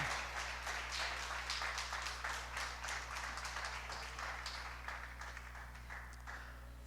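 Church congregation applauding during a sermon, a dense burst of clapping that starts loud and gradually thins and fades, over a steady low hum.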